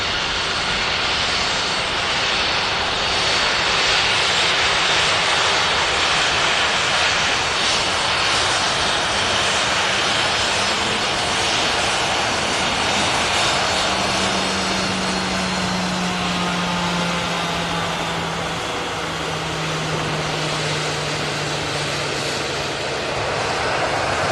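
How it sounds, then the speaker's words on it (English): A Ryanair airliner rolls past at Manchester Airport, its engines a broad, steady roar that holds loud and close for the whole stretch, with a low tone drifting downward as it moves by. "Let the Ryanair roll past"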